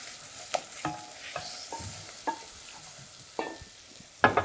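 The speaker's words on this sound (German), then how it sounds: "Dabei die Silvia das Wurzelgemüse anbrät" Root vegetables (celery stalk and root, yellow beet, carrot, shallots, mushrooms, young garlic) sear in a pan with a low steady sizzle, broken by sharp clatters of stirring utensils scraping the pan at irregular intervals.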